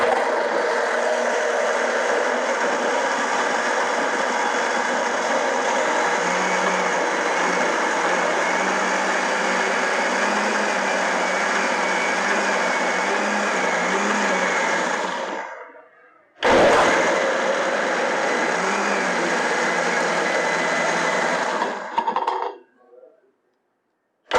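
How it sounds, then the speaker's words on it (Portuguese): A kitchen blender whirs steadily as flour is added bit by bit to pineapple cake batter, a continuous buzzing motor drone that stops briefly, restarts, then winds down and cuts off. "Agora nós vamos adicionando a farinha aos poucos no nosso liquidificador."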